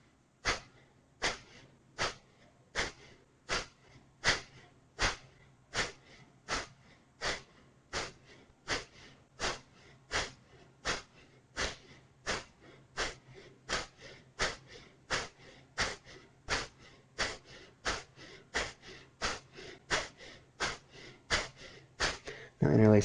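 Rapid, forceful yoga exhales through the nose repeat in a steady, even rhythm, about thirty sharp puffs close to the ear, with no talking over them.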